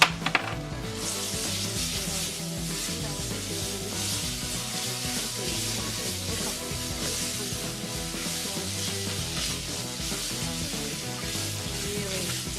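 Green onion tops and pepper sizzle as they are stirred into a flour roux for crawfish étouffée, a steady broadband frying hiss with soft scraping and rubbing from the spoon throughout.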